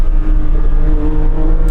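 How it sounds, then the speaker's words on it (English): Porsche 911 GT3 engine roars steadily under load, heard from inside the car through an open window, its loud, dense note echoing off nearby walls without any talk. "Just the engine note ricocheting off the walls."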